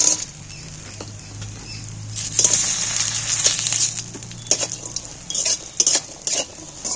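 Bori lentil dumplings frying in hot oil in a pan as part of a vegetarian eggplant and potato dish, a steady sizzle with clinks of a spatula stirring and scraping against the pan, louder bursts of frying midway.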